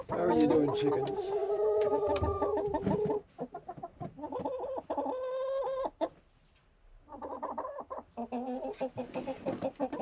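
Several chickens cluck and squawk close by in repeated bursts, with a brief quieter pause midway before the clucking resumes.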